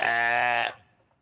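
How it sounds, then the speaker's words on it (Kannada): A Tibetan goat gives one loud, close, strongly tonal bleat lasting just over half a second, then it breaks off abruptly into near silence. "ಆ ಟಿಬೇಟಿಯನ್ ಮೇಕೆ ದರ್ಶನ ಮಾಡ್ಕೊಳ್ಳಿ"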